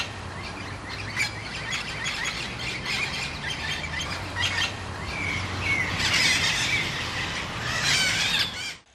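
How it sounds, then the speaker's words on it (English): Festive parrots, Amazona parrots of the Orinoco Delta, give repeated squealing and squawking calls against a dense forest bed of chirps and insect buzz, the loudest bursts coming near the end. "This is the festive parrot, one of the most unique Amazonas parrot found only in the Orinoco Delta"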